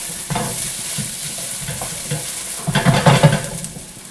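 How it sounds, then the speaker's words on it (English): Tomato paste sizzling and frying as it browns in a pan, a steady hiss with stirring scrapes that grow louder toward the end, with no voices. "we're going to put our tomato paste in and kind of let that brown almost blacken up"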